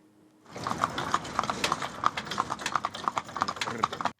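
Hutsul horses walk at a therapy riding center, their hooves clip-clopping in a steady, fairly close rhythm of repeated knocks, with faint voices underneath.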